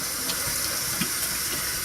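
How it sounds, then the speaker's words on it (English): Hot tap water runs steadily into a sink as a filter is washed out with soap, a close, continuous rushing stream without any talking. "I usually just wash it out with hot water and soap"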